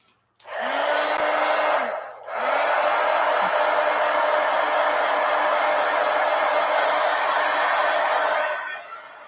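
A hair dryer blows steadily to dry a piece of artwork, loud and close, with a brief dip when it is switched off and on before running on evenly and trailing off.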